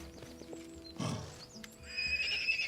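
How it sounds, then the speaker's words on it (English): Pair of frightened ponies in the video game Pathfinder: Kingmaker give a short breathy snort, then a thin neigh rising toward the end, fairly quiet over faint background ambience. "A pair of scared ponies stands before you. They don't run away, but they snort loudly and neigh as you approach."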